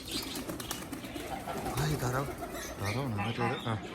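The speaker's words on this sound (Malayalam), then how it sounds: "ഇതിനകത്ത് അതൊക്കെ തന്നെയാണ്, മൊത്തം പക്ഷികളാണ്. പ്രാവൊക്കെ കണ്ടോ." Pigeons coo in a resort aviary, several low rolling calls repeating close by while a person talks over them and other birds chirp faintly in the background.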